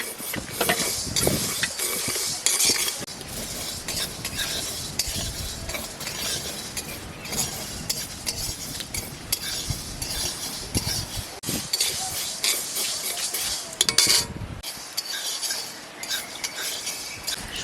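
Yellow mustard seeds stirred as they dry-fry in a pan for mango kasundi, with steady scraping, clinking and rattling of a spoon against the metal throughout, close and fairly loud, with no voices.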